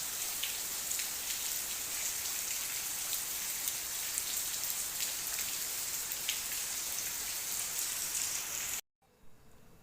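Heavy rain with large drops pours steadily onto surfaces, a dense continuous hiss that stops abruptly near the end.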